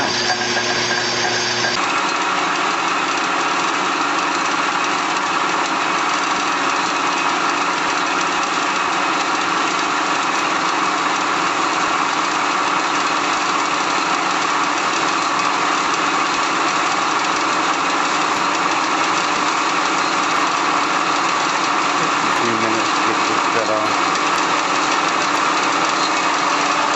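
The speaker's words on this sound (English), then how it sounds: "We'll cut on that bandsaw now." A Wells bandsaw cutting hardened metal runs as a steady, loud mechanical drone throughout, with no talking.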